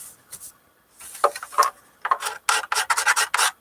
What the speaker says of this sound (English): scraped these couple of spots down where there's some old glue, some yellow glue